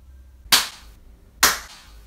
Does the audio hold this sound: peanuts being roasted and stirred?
no